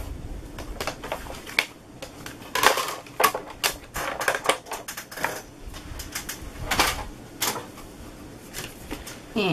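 Stacked card plates run through a hand-cranked embossing machine, giving a busy series of crisp clicks and clacks in irregular bursts, close and fairly quiet.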